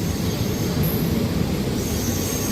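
Train rolling toward the Jolarpettai rail yard, a loud, close, continuous rumble with a faint high squeal of wheels, no voices.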